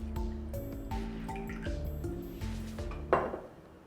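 An ounce of fresh lime juice poured for a margarita, giving a short trickle and drip among clinking glassware and ringing metal bar tools at close range, ending with a brief splash.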